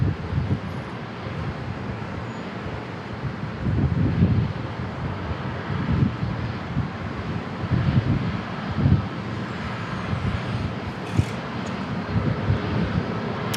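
An Airbus A321neo airliner takes off from San Diego International Airport, a broad, distant engine rumble with surging swells under steady wind buffeting on the microphone.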